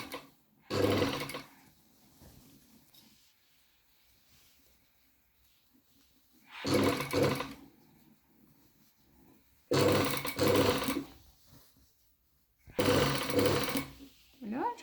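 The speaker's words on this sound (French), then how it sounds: "quand je pique à la machine, c'est moi qui redresse mon travail devant le pied de la machine" Sewing machine stitching a gathered shirt sleeve into place, running in four bursts of rapid whirring with quiet pauses between, close up and fairly loud.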